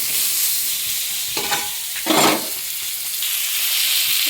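Mango chutney with salt and turmeric sizzling in a pan, the unpeeled mango pieces frying with a steady hiss, broken by a few scraping stirs near the middle. No one speaks.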